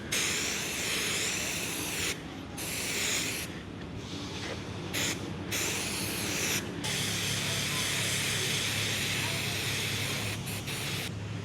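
An aerosol can of Premium Auto headliner adhesive sprays in several long, close hissing bursts with short pauses between them, used on a badly worn car interior.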